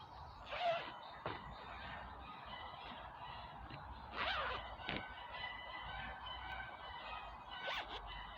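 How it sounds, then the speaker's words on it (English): Chickens calling outdoors in a garden setting, with several loud honking, squawking bursts standing out over a steady background of birdsong and outdoor ambience. "The chickens are going again."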